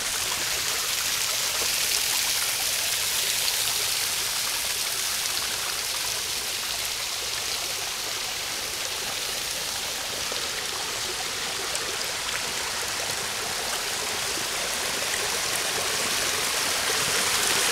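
Water flows steadily through a sewer-fed creek, a constant broadband rushing with no pauses, close and fairly loud, and no voices over it.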